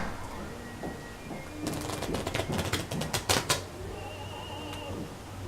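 Playing cards bridge shuffled in a rapid, close ripple of crisp clicks that tighten into a flurry of sharp snaps, over a low background hum.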